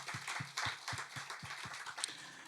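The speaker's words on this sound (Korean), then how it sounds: "여러분 100개 손 드신 분들 박수 한번 해주시기 바랍니다." A congregation at a Sunday church service claps in a steady, even rhythm, the rhythmic claps quiet and somewhat distant over a faint room murmur.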